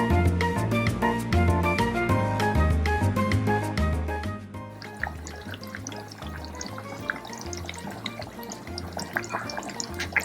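Coriander leaves kootu comes to a boil in a pot, with continuous bubbling and popping. The first half is rhythmic and busy, and it later turns into softer, scattered gurgles.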